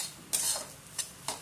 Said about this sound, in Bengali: সুজি আর বেসন ভালো করে ভেজে নেব